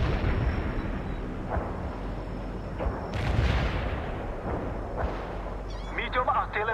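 Napalm strike explosions in the World in Conflict battle game, heavy rumbling blasts and bursts rolling over one another with a sharp crack midway, loud and continuous, with radio-style voices talking over the noise.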